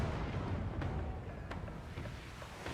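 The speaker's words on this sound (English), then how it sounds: "your cannons fire a deafening volley at the opposing ship" Cannons on a sailing ship fire a volley at an enemy vessel during a naval battle in Pillars of Eternity II: Deadfire, heard as a dense, continuous low rumble with a couple of sharp booms breaking through.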